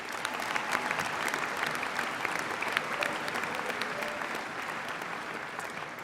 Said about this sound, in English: Please join me in giving the winners all a round of applause